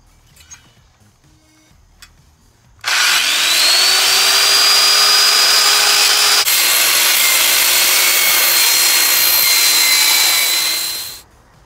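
A power saw bites into a wooden fence picket after a quiet pause, whining loudly and steadily for about eight seconds with a brief dip midway, then spinning down to a stop.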